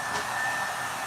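A handheld hair blow dryer runs steadily, giving a continuous close whooshing airflow with a faint motor whine and no speech.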